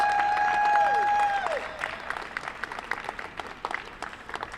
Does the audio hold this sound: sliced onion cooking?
no